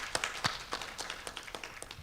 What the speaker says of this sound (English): An applause for them, please